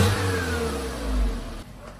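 Hatchback car engine revving briefly, a close rising and falling growl that fades quickly toward the end.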